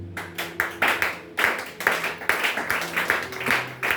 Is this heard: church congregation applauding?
yes